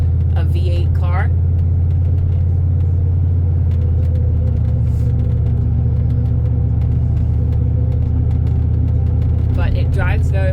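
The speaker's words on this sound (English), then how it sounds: "The exhaust is a little bit louder" Deep, steady V8 exhaust drone from a 2008 Chevy Impala under way, with a loud low rumble throughout, brief higher engine whines near the start and end, and faint clicks over the top.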